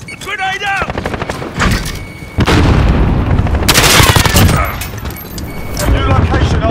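Call of Duty: Modern Warfare combat with a grenade blast booming amid rapid gunfire and automatic bursts, loud and close, while voices shout over the action.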